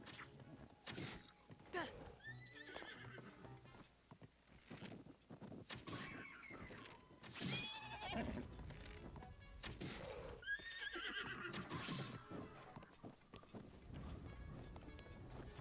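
A horse in Zelda: Tears of the Kingdom whinnies repeatedly amid clip-clopping hooves and thuds, fairly loud and close, with game sounds throughout.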